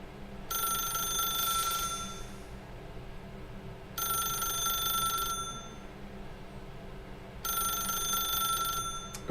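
A telephone rings three times in The Stanley Parable video game, with long, bright electronic rings separated by pauses over a steady low background hum.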